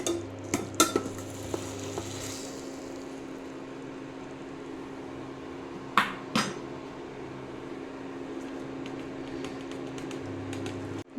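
A spoon stirring dried anchovy and egg thokku in a pan, a few faint metallic clinks and scrapes over a quiet, steady kitchen hum, with long soft stretches between the sharper knocks.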